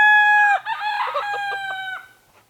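A rooster crows loudly and close on a farm, one long harmonic call with rising and falling clucks, ending in a quieter tail with no talk.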